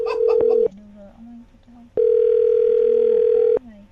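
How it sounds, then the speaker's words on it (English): Two long, steady tones from a radio show's phone line sound loud and clear with a short pause between them. Faint voices sit under the line in the gap. "I just dialed the phone number."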